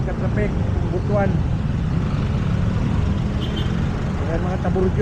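Steady road traffic in Butuan in the Philippines, with a constant engine and tyre rumble from cars, trucks and buses close by, a few brief brake hisses or squeaks, and people talking over the din.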